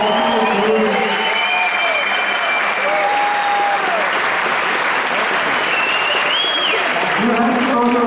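A packed concert audience at a show at CCSP in São Paulo bursts into loud, sustained applause, with dense clapping and whistles and cheers rising above it throughout.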